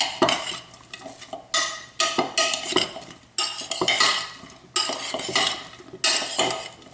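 Seasoned food tossed and stirred in a pan after fresh cracked pepper is added, with repeated scraping and clinking of a utensil against the pan in uneven strokes over a soft sizzle.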